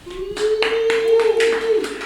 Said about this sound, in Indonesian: Sekali lagi tepuk tangan buat Harvey Maliholo.